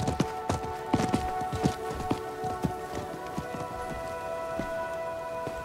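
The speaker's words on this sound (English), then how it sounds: "I think that was the merchant's horse." Horse hooves clip-clopping in Diablo 4, a steady rhythmic trot of sharp hoof strikes over a constant tonal game ambience, no talk.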